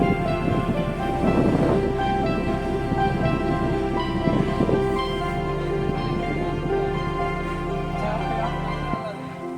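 Rain pours steadily at Sirumalai in Dindigul district as a dense wash of noise, with occasional low rumbles and a sustained tonal hum beneath, before cutting off abruptly near the end.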